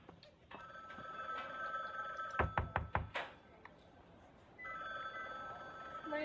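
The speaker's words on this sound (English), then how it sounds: "Neighbor, do you want to answer my phone?" A telephone rings in a video game with a sustained electronic ringing tone, broken by a quick run of heavy knocks and thuds, then the ringing resumes, moderately loud with no talk.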